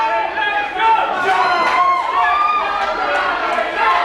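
A wrestling crowd at a heavyweight championship match roars and cheers continuously, a dense, loud wall of voices with shouts rising above it, all under an announcer's commentary.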